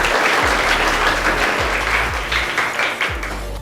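Loud, dense applause from students at a school quiz contest, a close, sustained patter of many hands clapping that thins slightly toward the end, with low thumps underneath.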